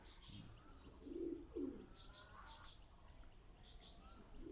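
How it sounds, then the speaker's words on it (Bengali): High-flying Indian Madrasi pigeons coo softly, with a pair of low, throaty coos in the middle and a few faint chirps, heard against a quiet background. "এগুলো হাই ফ্লাইং কবুতর"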